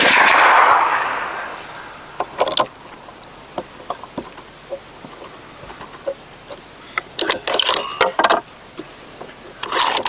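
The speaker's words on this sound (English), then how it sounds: "that was just my first shot at those reloads" A rifle shot from a Bergara Wilderness Terrain firing a 140 grain Nosler reload outdoors: one loud, sharp report at the start that quickly fades, followed by scattered faint clicks and bird calls.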